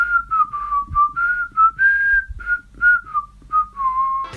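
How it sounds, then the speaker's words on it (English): A person whistles a wandering melody alone, steady tuneful notes rising and falling over about four seconds with short breaths between phrases, close and clear. "I don't normally whistle"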